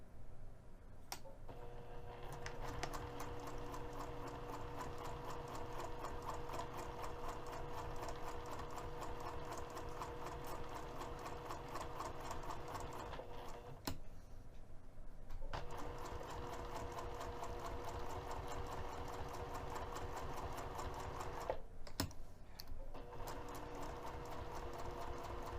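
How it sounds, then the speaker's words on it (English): A sewing machine runs steadily, stitching a second line a quarter inch from the edge of a cork fabric luggage tag, with a sustained mechanical hum and rapid needle rhythm, pausing briefly twice before resuming. "I'm also going to sew a second line of stitching, this time 1/4 of an inch away from the edge of the fabric"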